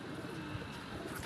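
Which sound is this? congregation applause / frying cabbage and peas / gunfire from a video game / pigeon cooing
pigeon cooing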